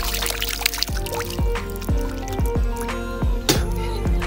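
Water splashes and drips steadily as someone washes their face at a dam, with repeated close splashes and pouring sounds about every half second.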